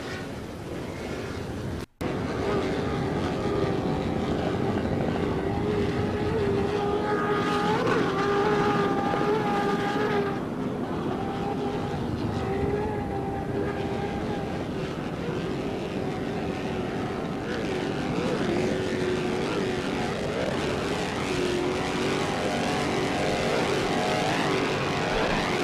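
A helicopter hovering over a 2006 offshore powerboat race off Destin, Florida gives a loud, steady rotor and engine drone with tonal whine, continuous throughout and mixed with distant boat engine roar.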